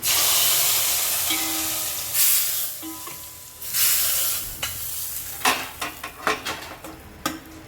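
Spices crackle and sizzle in hot oil for the tempering of a roasted-coconut bitter gourd curry, a loud steady hiss that thins into sharp intermittent pops and spits near the end, with no talking.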